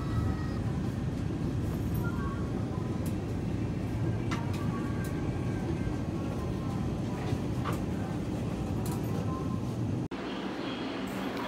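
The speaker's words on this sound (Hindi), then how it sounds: "ये जो आपको ट्रेन दिख रही है ये है अजमेर सराई रोहिला शताब्दी एक्सप्रेस।" The Ajmer Sarai Rohilla Shatabdi Express rumbles steadily at a station platform, a continuous low, loud train noise with faint clanks and hiss on top, easing slightly near the end, with no talking.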